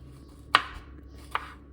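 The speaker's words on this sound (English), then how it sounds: "I'm gonna show you guys how I cut them." A knife chops through bitter melon into small pieces on a cutting board, giving two sharp, separate cuts that stand out clearly in a quiet kitchen with no talking.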